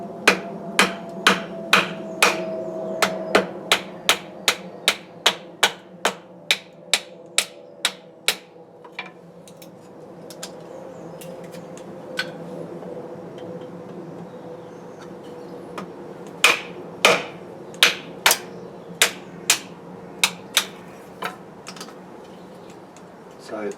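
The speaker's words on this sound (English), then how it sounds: "It's entirely possible to batten with this knife" A Buck Bantam BLW knife is struck repeatedly with a baton to split firewood, producing sharp, evenly spaced wooden knocks in a fast series, a pause with faint rustling, then another run of cracks, close by and clear.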